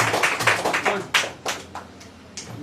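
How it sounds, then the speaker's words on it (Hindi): Schoolchildren in a discussion class clap loudly together, a dense run of sharp hand claps that peaks early and gradually thins out, with a voice briefly audible underneath. "चलिए इनके नाम पे जोरदार ताली बजाइए"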